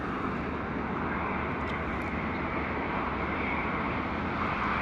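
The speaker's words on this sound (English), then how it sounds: "Here we go, Turkish Airlines 350 coming in." A Turkish Airlines Airbus A350 comes in to land at Heathrow, a steady broad roar of jet engine noise holding evenly throughout, with no voices over it.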